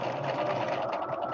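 A sewing machine joining quilt rows runs at a steady, even speed, a close continuous mechanical whir with a fast, faint stitching pulse and no talking.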